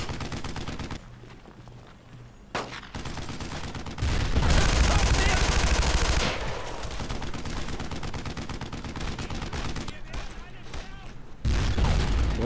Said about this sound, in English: When in doubt, Tommy gun it out.